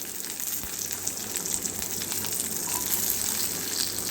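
Shallots, dried red chillies and curry leaves fry in coconut oil with a steady, dense sizzle and hiss, close up and unbroken, with no talking over it.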